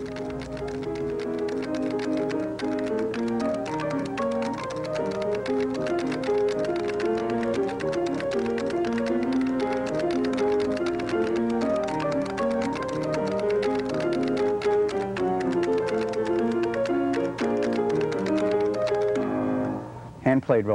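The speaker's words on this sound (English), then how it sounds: "as it passes underneath this row of styli and the pianist plays, carbon marks are produced on the underside of the moving paper" A piano roll recording machine marks moving paper with a row of carbon styli as a pianist plays; dense, rapid mechanical tapping runs continuously under sustained piano notes, close and steady, before stopping abruptly.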